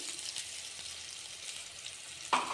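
Ginger paste fries in a pan for an onion and fenugreek-leaf chutney, a soft, steady sizzle that holds evenly throughout, with one slightly louder scrape near the end.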